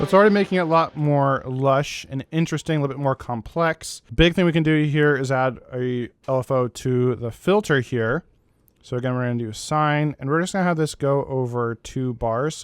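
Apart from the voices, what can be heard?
No distinct noise like a dog, phone or traffic.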